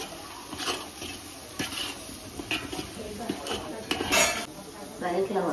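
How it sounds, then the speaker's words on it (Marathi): Cashews, almonds and raisins sauté in a pan at a home housewarming, with sharp metallic clinks and scrapes of a spoon against the pan over a faint sizzle, close by, and a person talking alongside. "मनुके सुद्धा ऍड केलेत ते पण परतून घेऊ"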